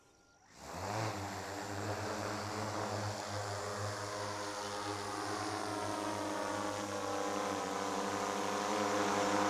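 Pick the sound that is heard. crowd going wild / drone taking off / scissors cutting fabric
drone taking off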